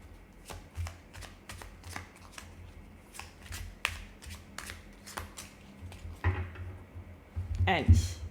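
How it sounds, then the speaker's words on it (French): Tarot cards dropped and spilling, a run of sharp papery slaps and flutters at close range, several distinct hits spaced across the moment with a denser clatter near the end, over a quiet room. "je fais tomber toutes les cartes"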